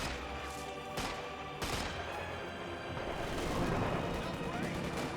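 Base artillery fires in a Company of Heroes 2 World War II strategy game, several sharp booming shots a second or so apart over a constant din of battle noise and rumble.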